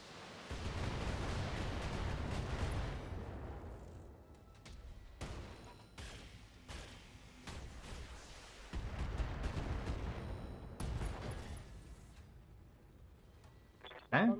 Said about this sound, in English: Ammo explosion kills him.